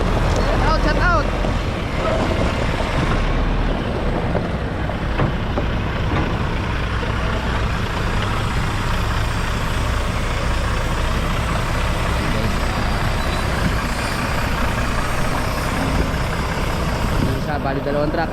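Two trucks idle at a training ground in Barangay Capehan, San Rafael, Bulacan, giving a steady, close engine rumble mixed with gusty wind noise across the microphone.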